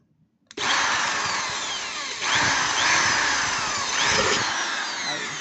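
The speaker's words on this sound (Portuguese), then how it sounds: "Uma broca fininha de ferro." A thin iron drill bit bores into a powdered milk can, the power tool starting abruptly and whining loud and steady with brief surges as it bites the metal, no voices heard.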